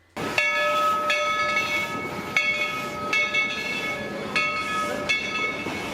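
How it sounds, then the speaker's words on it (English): A steam-style theme park train at Dollywood passes close by, its whistle blasting in repeated sharp tonal bursts over a continuous rumbling and hissing roar. "And the train is coming through, and this thing is like real. A train. This is like the loudest thing you will ever hear in your life."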